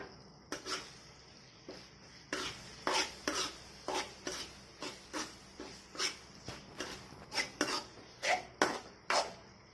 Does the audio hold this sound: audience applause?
no